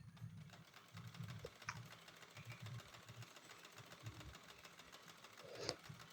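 A sewing machine stitches a suit seam from bust down to waist, its needle running in quick bursts with short pauses between, close and fairly quiet, with no talk over it.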